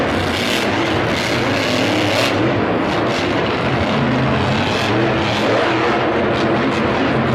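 Grave Digger monster truck engine roaring loudly and continuously at full throttle during a jump in a stadium event at the Georgia Dome, Atlanta, with a dense, unbroken wash of noise.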